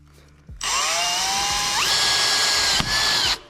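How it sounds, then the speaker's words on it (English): A power drill bores a hole for a DIY foot brake on a Razor electric pit bike, its motor whining loudly and steadily, rising in pitch partway through, with a brief dip before it winds down, close and alone. "Now let's drill."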